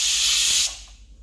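Steam hissing out of a pressure cooker after cooking carrot, beetroot and tomato, a loud bright spray that stops abruptly partway through, leaving near silence.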